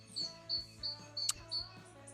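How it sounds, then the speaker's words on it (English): Birds chirp and sing outdoors on a warm day, a series of short bright tweets repeating every half second or so, fairly close and clear over a faint steady hum. "Birds are absolutely sing-songing."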